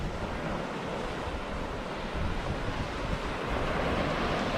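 Steady broadband wash of surf and wind along a sheltered beach at Bremer Bay, continuous and fairly close with no talk over it.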